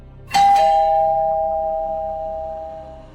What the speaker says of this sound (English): A few minutes later, the bell rang again.